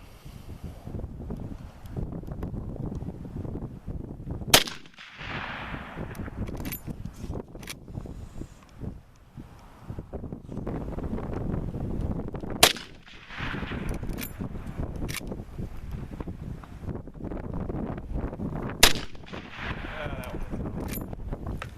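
Marlin 336 lever-action rifle fired with iron sights outdoors: three sharp, loud shots spaced several seconds apart, heard over steady wind noise with people talking between shots.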